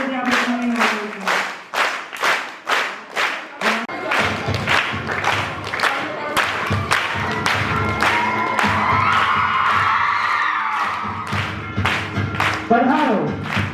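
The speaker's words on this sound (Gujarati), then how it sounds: "જોરદાર તાળીઓથી આપણે ત્રણેયને વધાવીશું." Audience applause greets three girls being honoured at a Raksha Bandhan celebration, a string of sharp claps at first, then a steady crowd roar with some cheering and people talking.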